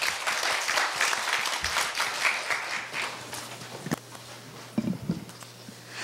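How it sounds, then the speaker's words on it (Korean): Audience applause of encouragement at a university speaking contest, moderately loud clapping that thins out over several seconds, with a few scattered thumps and footsteps near the end. "격려의 박수 부탁드립니다."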